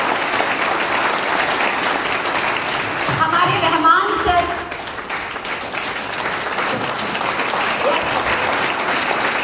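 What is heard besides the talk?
applause for management and team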